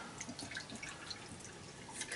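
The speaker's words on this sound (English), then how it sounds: "So we're ready to pour and sample the sangria." Chilled sangria from a coffeepot trickles steadily into a wine glass, a soft, continuous splashing drip that stays close and fairly quiet with no talking over it.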